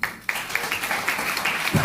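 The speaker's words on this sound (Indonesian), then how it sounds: "Tepuk tangan." Studio audience at a talk show on digital economy applauding, a steady wash of clapping that starts sharply and holds for about two seconds at moderate level.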